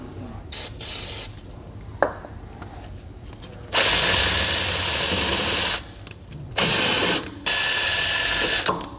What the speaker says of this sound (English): showing you how to use the Counteract stud cleaner kit